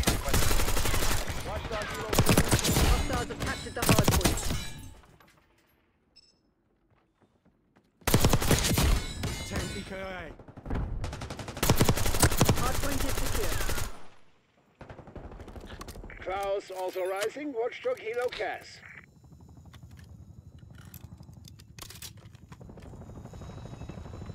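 XMG light machine gun firing in Black Ops 6, long loud sustained automatic bursts at close range broken by short pauses, with a helicopter and other battle noise and voices talking over it.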